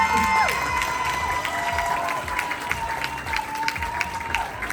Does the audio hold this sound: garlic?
no